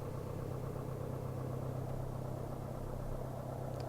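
A light aircraft engine holds a steady, loud, droning rumble during a run-up on the ground before takeoff.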